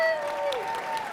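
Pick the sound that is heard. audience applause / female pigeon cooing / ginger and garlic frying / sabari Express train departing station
audience applause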